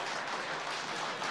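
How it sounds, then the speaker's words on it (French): Audience applause at a live music show, a broad, even patter of many hands clapping, moderately quiet and continuous through a short burst, with no talk over it. "On peut l'applaudir."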